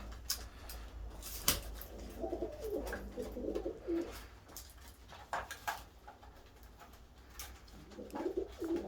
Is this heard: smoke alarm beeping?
no